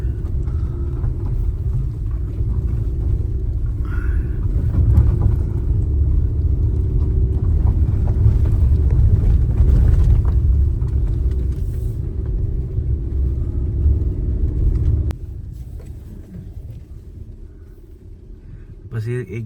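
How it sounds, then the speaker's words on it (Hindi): A car climbs a steep hill in first gear, its engine a steady, loud low rumble that eases off near the end, with someone talking over it. "अब यहाँ से हम चढ़ाएंगे ऊपर फर्स्ट गियर पे"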